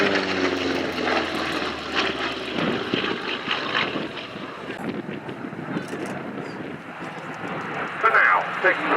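Hawker Fury warbird flying a display at the Duxford Battle of Britain airshow, a propeller engine drone rising and falling at a distance beneath a commentator's voice and wind buffeting.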